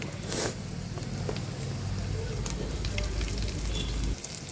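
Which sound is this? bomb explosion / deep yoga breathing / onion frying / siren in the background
onion frying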